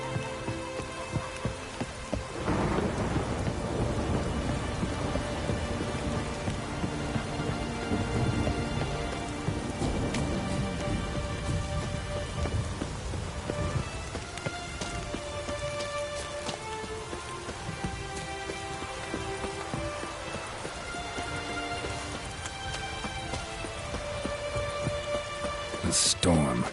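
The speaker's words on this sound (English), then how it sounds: "A storm, damn it." Rain pours steadily in a stormy scene from the video game The Witcher 3, a constant close hiss of drops with low rumbles of thunder beneath. Game music tones and voices sound over the downpour.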